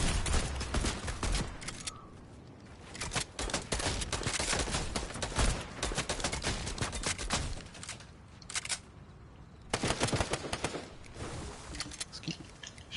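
Rapid bursts of gunfire crackle through Fortnite gameplay, dense fusillades of shots stopping and starting, loud and close at times, with quieter gaps between exchanges.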